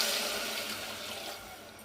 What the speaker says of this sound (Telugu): నెక్స్ట్ ఇప్పుడు 1 కప్పు నీళ్ళు పోస్తున్నా.